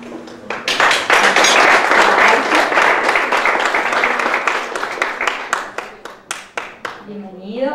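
Applause at a diploma certificate ceremony. Clapping swells quickly into a loud, dense burst, then thins out into scattered individual claps, and a voice is heard near the end.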